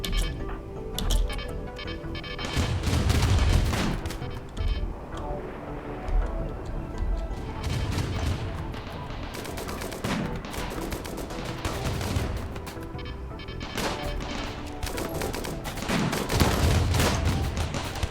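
Scattered gunfire from a firefight in the colony-building game RimWorld 1.5, with sharp ticking shots and bursts over a busy game soundscape for most of the clip.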